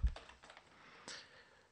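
A few soft taps on a computer keyboard while typing C++ code, faint and sparse against a quiet background.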